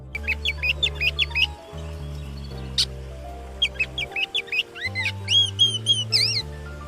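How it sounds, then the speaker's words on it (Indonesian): Birds chirp in quick bright trills and whistled phrases, several bursts over a sustained low musical drone, fairly loud and close. "Burung berkicau."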